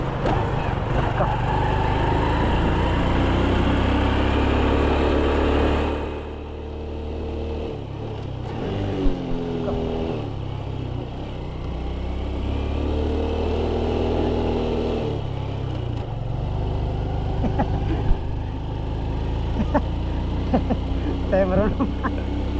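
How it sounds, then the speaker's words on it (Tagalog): A motorcycle engine labours up a steep mountain road on a first ride up the mountain, a steady mid-pitched drone running the whole time beneath ongoing conversation. "Hindi ko alam kung kaya ng motor natin"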